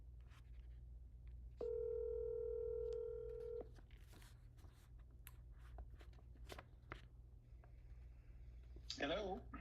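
An outgoing phone call-back, with a steady ring tone lasting about two seconds over a low hum, then faint clicks and a voice briefly speaking near the end.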